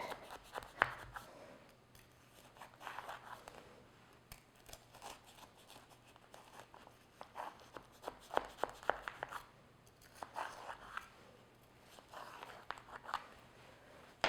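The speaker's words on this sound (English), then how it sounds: "So now we can cut into it. So using a knife." A knife slicing into a cooled cranberry raisin pie, giving soft, faint crunching and scraping cuts in irregular bursts across a quiet room, with no talk.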